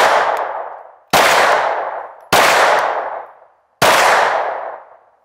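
An IWI Masada pistol fires four sharp, loud shots at outdoor targets about 25 to 30 yards away, each report ringing out and decaying before the next at roughly one-second intervals.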